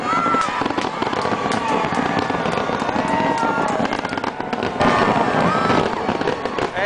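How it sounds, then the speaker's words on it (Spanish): New Year's Eve fireworks over Sydney Harbour: a dense, continuous barrage of crackling bursts and booms, loud and sustained, with a crowd murmuring underneath. "esto parece que ya son los fuegos"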